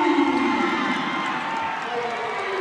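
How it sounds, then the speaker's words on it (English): A large basketball crowd, with Delaware fans, roars and cheers continuously, a dense wash of voices that stays loud throughout with no pauses. "Listen to the underdog crowd"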